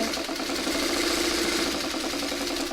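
A sewing machine runs steadily as it stitches quilt blocks, its motor giving off a continuous mechanical hum and rapid needle chatter up close for the whole stretch, with no talking.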